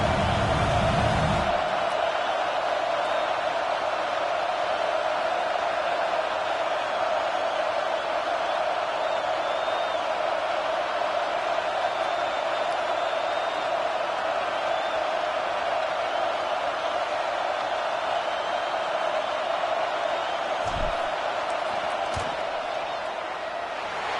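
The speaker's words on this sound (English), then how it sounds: "This crowd trying to do its part to get inside the kicker's head" Steady stadium crowd noise in College Football 26, a constant dense roar of a large crowd during a field goal attempt, even and unbroken, with commentary voices heard briefly.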